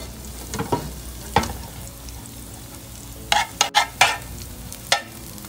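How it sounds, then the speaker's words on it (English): Soft sizzling of garlic and hot pepper flakes in a pan with a few sharp crackles and pops clustered together, close and fairly quiet. "give it just a quick sizzle."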